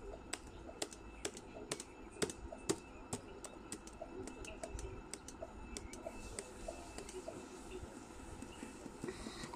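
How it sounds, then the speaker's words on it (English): Clicky computer keyboard typing during a Roblox game session, quick irregular keystrokes close by with a faint steady hum and soft background noise, no talking. "I use a mouse, okay? And then I use a keyboard down here."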